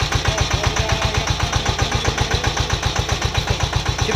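A Sanedo mini agricultural tractor engine runs steadily in reverse, putting out a fast, even, close-up chugging pulse with no pauses and no talk.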